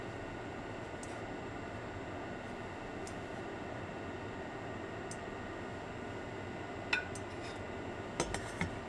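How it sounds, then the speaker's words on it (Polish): Boiled eggs, cooked three minutes, lifted out of a pot: a few light metallic clinks near the end over a steady, quiet kitchen hiss. "Wyciągam jajka."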